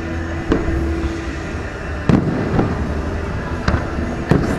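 Fireworks at a Fourth of July show in West Palm Beach burst in several sharp, separate booms spaced a second or two apart over a steady crowd murmur, moderately distant.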